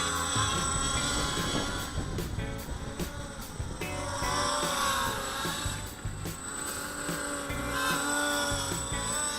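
A Racer X quadcopter drone on a 2650mAh 4S battery hovers nearby, its motors giving a loud, continuous high-pitched whine with wavering pitch, heard alone throughout.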